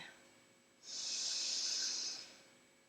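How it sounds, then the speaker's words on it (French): A single long, steady inhale through the nose during yoga breathing, a close, soft airy hiss that lasts about a second and a half and then fades out. "Longue inspire."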